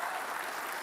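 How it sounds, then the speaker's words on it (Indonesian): Brief burst of audience applause at a final-round Jakarta gubernatorial election debate, a dense, even patter of many hands. "kita kasih tepuk tangan"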